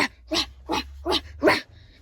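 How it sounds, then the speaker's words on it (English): A dog barks five times in a steady rhythm, loud and close, with short pauses between each bark. "my dog will not stop barking"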